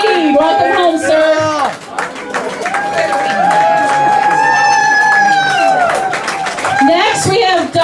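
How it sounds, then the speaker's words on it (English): A crowd at an Honor Flight homecoming for veterans cheers loudly with shouts and clapping, voices rising and overlapping close by for several seconds. "Let's cheer loud and proud, loud and proud."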